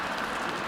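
A short, even burst of audience applause from a lecture crowd, steady and moderately loud, with no voices over it.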